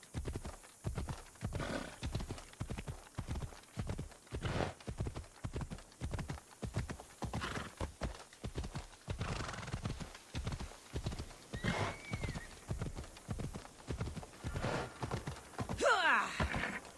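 Rhythmic clip-clop of horse hooves at a steady gallop in Assassin's Creed Odyssey, loud and continuous, with a couple of whinnies and neighs breaking in near the end.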